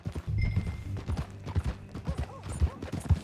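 Horses ridden in Red Dead Redemption 2 beat out a brisk clip-clop of hooves, close and moderately loud, the uneven hoofbeats overlapping across the whole stretch with faint background tones.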